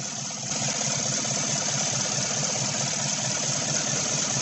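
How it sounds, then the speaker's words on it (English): A 2016 Chevy Silverado 5.3 V8 misfiring at idle, cylinder seven missing, gives a steady, loud, rough engine drone with an uneven pulsing throb throughout, no voices. "It says cylinder number 7 still misfiring"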